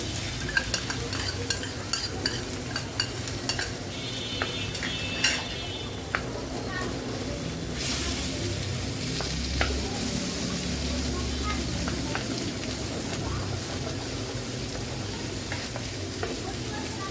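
Eggs frying in a pan for Thai noodles, a bright sizzle with repeated stirring scrapes and spatula clicks, close up, with a louder hiss burst partway and a voice speaking now and then.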